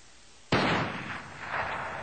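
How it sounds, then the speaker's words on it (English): A single sharp gunshot booms from inside a bulldozer in Granby. It is loud and close, and a rumbling echo lingers and swells afterward. "a gunshot had been heard coming from inside the bulldozer"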